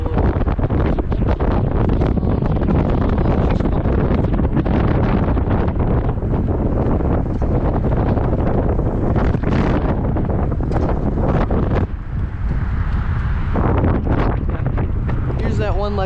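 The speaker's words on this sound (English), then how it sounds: "Ooh, it's windy out." Strong wind buffets the microphone outdoors on a street near parked cars, a constant loud rumbling roar that runs nearly unbroken throughout, briefly easing near the end.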